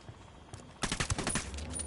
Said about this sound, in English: We're shooting everything just to scare off the VIPs and get Carzita back here.